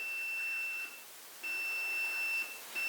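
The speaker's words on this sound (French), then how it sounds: "C'est ce qui fait la sonnerie qu'on entend." A thin, high electronic tone of about 6000 Hz from a homemade Morse radio transmitter beeps on and off in long pulses, with a softer hiss in the gaps between them.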